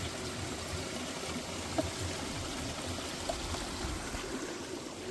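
Water runs steadily at a cold-water spring pool on a mountain trek route, an even rushing wash with faint trickling detail and a couple of tiny clicks, nearby and unbroken.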